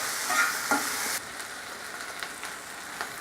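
Chicken sautés with ginger garlic paste, cardamom and cinnamon in a pan, a steady close sizzle with a brief stir before settling to a softer, even crackle.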